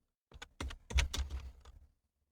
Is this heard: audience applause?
no